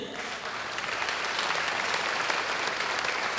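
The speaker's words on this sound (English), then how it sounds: "Please give him a big round of applause." Dense, steady applause fills a University of Guyana convocation ceremony hall as a graduating student is honoured, loud and sustained throughout without a break.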